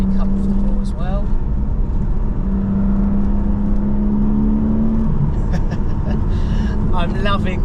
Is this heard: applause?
no